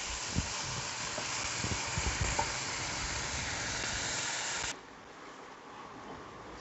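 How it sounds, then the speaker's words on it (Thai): Cabbage sprouts stir-frying with pork belly in a hot pan, a steady close sizzle with clinks of stirring that drops abruptly to a quieter simmer near the end. "ผัดแขนงกระหล่ำของเราก็สุกแล้วนะคะ"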